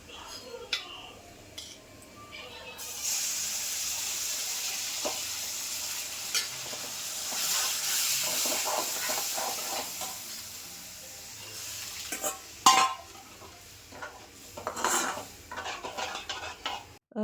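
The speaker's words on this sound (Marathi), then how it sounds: "छान अशी फोडणी तर देऊन झाली" A Marathi spice tempering (phodni) with red chilli powder and turmeric sizzles in a pan. A bright hissing crackle starts abruptly and continues, with clicks and scrapes of stirring near the end.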